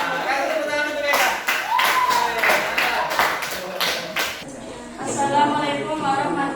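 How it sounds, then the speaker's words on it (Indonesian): Classroom students clapping for a classmate: a burst of group hand claps for a few seconds, with voices talking over and after it. "Kasih tepuk tangan untuk Eka."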